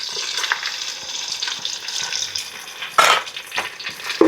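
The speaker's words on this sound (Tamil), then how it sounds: "புதினா கொத்தமல்லி கொஞ்சம் பச்சை வடை போகிற வரைக்கும் வதக்கிக்கலாம்." Ginger garlic paste, green chillies, mint and coriander sizzle in a pan while being stirred, with a steady close frying crackle and a few louder scraping stirs, no voices.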